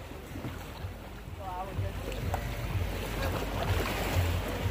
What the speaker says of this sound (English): Keep paddling on the one side to kind of turn around.